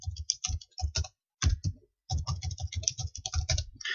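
A password being entered on a computer keyboard: close, crisp keystrokes in quick bursts with a short pause midway, no voices.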